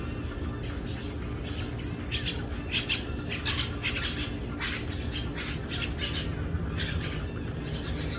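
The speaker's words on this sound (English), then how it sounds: "The birds are really chirping out today." Birds squawk and chirp outdoors in a run of repeated short calls over a steady background hum, moderately close and fairly clear.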